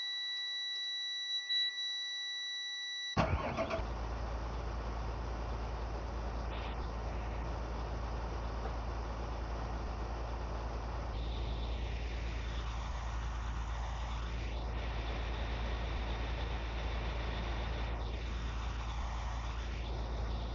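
A 2002 Thomas FS65 full-size school bus engine runs with a steady, low diesel rumble. It follows a few seconds of high electronic tones at the start and carries on unbroken.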